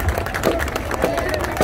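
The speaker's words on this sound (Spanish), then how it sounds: "Otro fuerte aplauso." Crowd applause and scattered cheers at a school marching band festival in San Salvador, a dense, steady clatter of many hands with voices mixed in.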